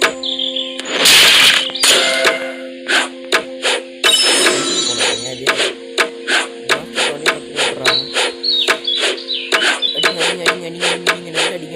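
Roblox game audio from a Demon Warriors session with a hand punch attack: a string of sharp, punchy hits keeps a steady rhythm over a droning musical tone, with a louder cluster of impacts near the start.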